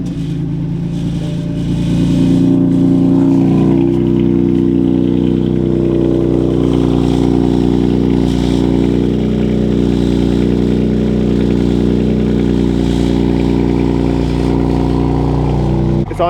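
A car engine on a frozen, long-parked vehicle being fitted with a flex fuel kit cranks and catches, then settles into a steady, loud, close idle as it warms up, with a low rumbling drone throughout.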